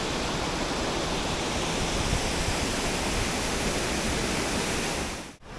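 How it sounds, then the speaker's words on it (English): Glenoe Waterfall near Larne pours into its plunge pool with a constant, dense roar of falling water. The sound stays steady and close throughout, with no voices, and breaks off in a brief dip near the end. "This is Glenoe Waterfall. It's actually flowing very nice today"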